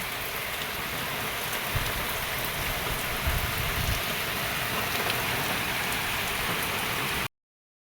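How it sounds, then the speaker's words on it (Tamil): Heavy rain pours down in Odisha, a steady, dense hiss of rainfall that continues evenly throughout and cuts off abruptly at the end, with no voices. "எவ்வளோ மழை பெய்யுது பாருங்கள்"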